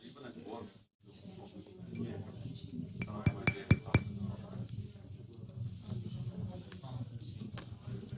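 A glass is set down amid clinking, a quick run of four or five bright, close clinks in the middle while someone talks before and after.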